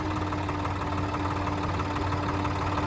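A tractor engine runs steadily during puddling work in a muddy field, a close, even, humming drone with a faint rhythmic knock, alone without voices.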